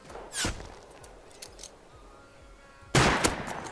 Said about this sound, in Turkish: Dur dur başka adam vuruyor vurma be.